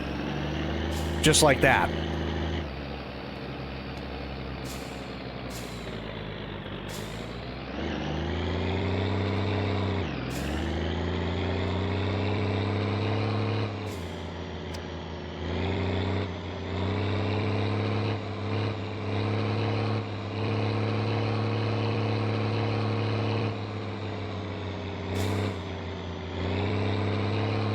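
A truck engine held at a set RPM by its hand throttle in freezing winter cold, giving a steady, droning hum whose pitch dips and shifts now and then, with someone talking over it.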